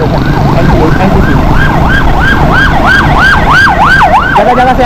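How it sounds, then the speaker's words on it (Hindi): A loud ambulance siren wails up and down in a rapid, repeating cycle close by, over traffic noise on Shahrah-e-Faisal, Karachi, in light rain. "जगह जगह से एम्बुलेंसें जा रही हैं।"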